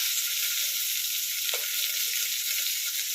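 Shallots, garlic and onion sizzle in a pan with a continuous, close, hissing crackle at an even level, broken by one brief clink partway through.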